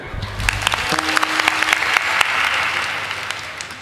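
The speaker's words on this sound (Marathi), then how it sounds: "टाळी वाजव" Audience clapping at a village kirtan during a harinam saptah gathering in Kedgaon, a dense steady patter of many hands that continues evenly throughout.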